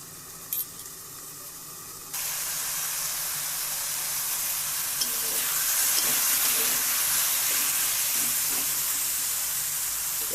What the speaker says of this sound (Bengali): আমি একটুখানি ঢেকে দিই দিয়ে ধীরে ধীরে আরেকটু কষিয়ে নেবো